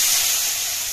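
Fenugreek leaves dropped into hot oil for a home-style dried shrimp dish give off a loud, steady, bright sizzling hiss that holds through the whole second, close up and with no talking.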